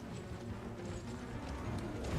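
A horse gallops in the video game Elden Ring, its quick, muffled hoofbeats faint and steady, running alone without a break.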